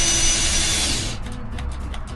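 A cordless power tool whines at close range while cutting a hole in a van, then bogs down and stops as its battery dies, leaving faint fading pulses.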